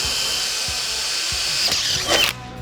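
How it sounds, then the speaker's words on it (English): A power drill fitted with a DeWalt titanium bit bores through a piece of steel, a loud steady high-pitched whine with a brief harsher grinding burst near the end before it cuts off. "I'm gonna go through a piece of steel first."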